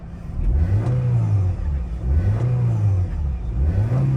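A 2007 Honda City ZX 1.5 VTEC engine revs hard three times in a row, each rev climbing and falling, loud and close with no talking.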